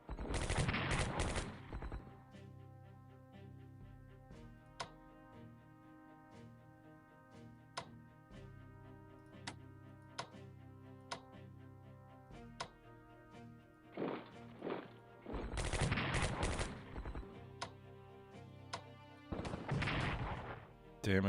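Battle sounds from the World War II strategy game Strategic Command WWII: several loud bursts of artillery and gunfire, with sharp isolated impacts in between. Close and dense, no talking.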